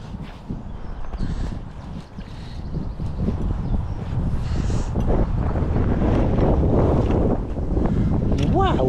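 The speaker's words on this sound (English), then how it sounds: "Wow, where did that wind come from?" Wind gusting outdoors during a fishing trip at Chalk Springs in spring, a heavy rumbling buffet against the microphone that builds and stays strong, with voices talking faintly underneath.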